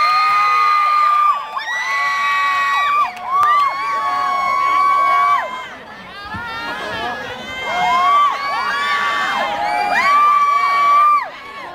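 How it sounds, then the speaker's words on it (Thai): A crowd cheers and shrieks loudly at a live cover dance performance, with high whooping voices rising and falling continuously throughout. "ขอเสียงปรบมือด้วยค่ะ"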